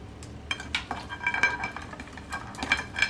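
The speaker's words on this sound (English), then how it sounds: "Now you're gonna mix it together" A Caribbean-style legume dish being mixed in a cooking pot with vegetable oil, giving soft scraping stirs and light clinks of a utensil against the pot, close and quiet with no voices.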